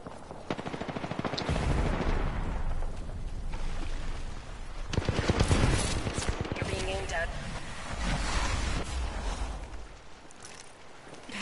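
Apex Legends gunfire rattles in bursts of rapid automatic shots over a noisy battle mix, loud and close, with players talking over the action.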